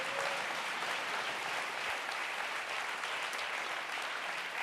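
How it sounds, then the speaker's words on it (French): Audience at a Geneva sports awards night applauding an athlete, a steady dense wash of clapping from a large hall crowd, even and sustained throughout. "On peut l'applaudir encore une fois."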